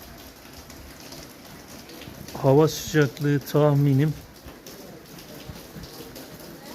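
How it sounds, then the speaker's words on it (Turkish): Rain falls steadily and fairly close at the Çiftehan hot springs in Ulukışla, Niğde, with a person speaking briefly over the patter midway. "Güzel yağmur başladı."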